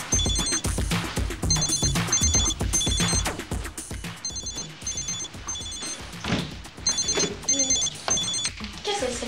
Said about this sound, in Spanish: Estoy llamando a Guido.